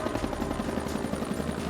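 Helicopter in flight with rapid rhythmic rotor thumping, loud and steady throughout the short stretch, no voices.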